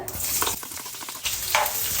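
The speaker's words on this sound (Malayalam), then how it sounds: "ഇത് നല്ലോണം ചൂടായതിന് ശേഷമാണ് നമ്മൾ സബോള ഇടുക" Onions frying in hot sunflower oil for a home-cooked biryani, giving a steady, close sizzle with stirring scrapes and a brief louder hiss near the end, with no talking.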